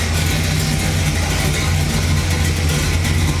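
A 1957 Chevrolet Bel Air with a four-speed runs close by, its engine and exhaust giving a steady, loud low rumble that holds even throughout.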